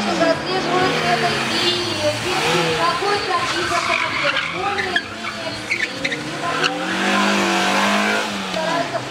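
A car competing in a speed maneuvering event in Minsk, its engine revving hard while the tires squeal and skid through turns, loud and continuous, with a voice talking over it.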